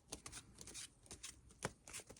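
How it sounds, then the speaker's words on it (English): A deck of playing cards is shuffled during a card magic trick, a series of quick riffling and snapping bursts in an irregular rhythm, close and crisp, with no talking. "I'll send them to the bottom and I'll shuffle"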